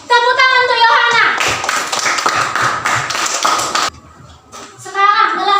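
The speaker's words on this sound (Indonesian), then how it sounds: "Tepuk tangan untuk Yohana." Children in an Indonesian classroom clap for a classmate named Yohana, a short burst of brisk group clapping between stretches of children's voices, with a brief lull before talk resumes.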